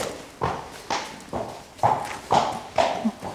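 A horse walking gives steady clip-clopping hooves, about seven even, moderately close steps in a relaxed rhythm with no talk over them.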